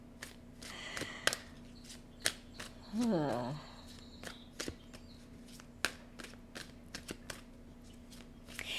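Oracle cards are handled and shuffled by hand at close range, with a series of soft, crisp snaps and flicks at irregular intervals and a brief murmured voice partway through.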